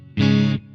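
A single short, loud guitar chord rings through a Two Notes ReVolt pedal simulating a Bassman amp, a full, bass-heavy tone cut off after about half a second.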